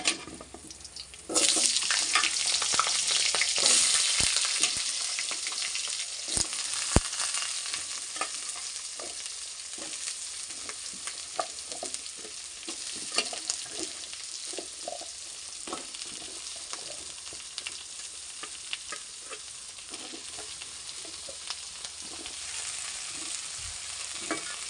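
Potatoes hit hot mustard oil already seasoned with dried and green chilies and cumin, bursting into a loud sizzle that settles into steady frying crackle, with occasional stirring clinks against the pan and no talk.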